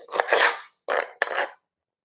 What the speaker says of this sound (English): I'm gonna cut up a lime